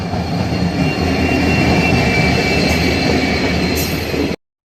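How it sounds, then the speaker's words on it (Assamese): A train arrives from the Lakhimpur side in early morning, a loud, continuous roar of wheels on rails with faint squealing, filling the air close by until it cuts off abruptly. "ট্ৰেইন আহি গ'ল এইফালৰ পৰা লখিমপুৰ ছাইডৰ পৰা"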